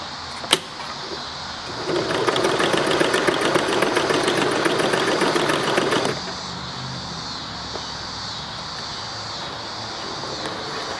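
A Dressmaker 100 sewing machine stitches in a steady, fast run of needle strokes for about four seconds, loud and close, then stops, leaving a quieter motor-like hum with no talking.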